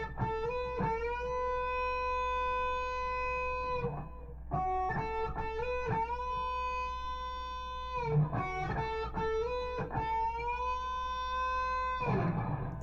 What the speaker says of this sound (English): I want you to bend the 10 right up to the 12, right off the bat.